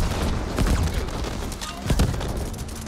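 Gunfire in the sci-fi shooter game The Ascent: loud, dense bursts of shots and booming impacts fill the moment, with two sharper blasts standing out, close and continuous.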